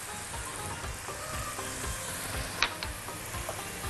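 Onion with garlic, paprika, cinnamon and cardamom sizzling in a hot pan while being stirred, a steady close crackle with a few sharp scraping clicks of the spoon.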